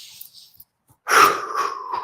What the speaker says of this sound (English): So you do that by taking some deep breaths